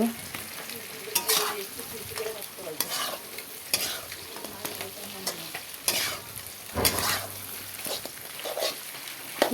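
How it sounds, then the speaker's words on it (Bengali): Dried rohu fish sizzling as it fries in a pan, with repeated scraping stirs of a spatula breaking through a steady crackle, close and fairly loud throughout with no talk. "মাছ শুকনোটা ভাজা ভাজা হয়ে গেল"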